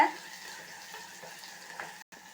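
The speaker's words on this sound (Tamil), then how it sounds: "உரிச்சு வச்ச பூண்டு பல் சேர்த்துக்கோங்க நல்லா கொஞ்சம் வதங்கட்டும் வதக்கி விட்டுடுங்க" Peeled garlic cloves sautéing in a pan for dried vanjaram fish thokku, a steady soft sizzle with faint stirring scrapes running throughout, close and fairly quiet, no talking.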